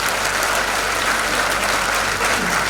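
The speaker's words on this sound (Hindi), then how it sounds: "एक बार जोरदार तालियां हमारे मित्र।" Audience applause at a stage event as a guest arrives, a loud, dense, steady clapping that fills the whole stretch without pause and with no voices over it.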